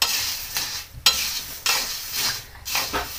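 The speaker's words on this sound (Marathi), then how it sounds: "आपल्याला असं खालीवरती खालीवरती असं हलवत राहायचं आहे, जेणेकरून बिया जळणार नाहीत" Sunflower seeds dry-roasting in a pan on low heat, stirred up and down so they don't burn: repeated rattling, scraping sweeps of seeds against metal in several bursts with brief pauses, close and clear.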